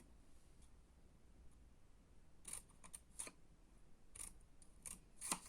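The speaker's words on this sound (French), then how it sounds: "on va venir découper en bas" Scissors snip through paper while cutting out a tea-bag advent calendar, several short crisp cuts in an irregular cluster, close and quiet.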